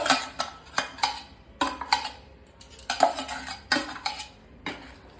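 Metal spoon stirring and scraping mung bean gravy in a cooking pot, a series of sharp clinks and scrapes recurring every second or so, close and clear with no talking.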